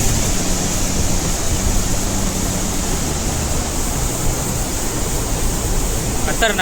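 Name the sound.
water rushing at a dam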